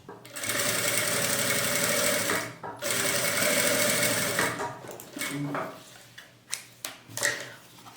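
Sewing machine stitching a seam on a portable baby changing bag, a fast steady whirring run of about four seconds with a short pause, then trailing off into a few brief bursts and clicks.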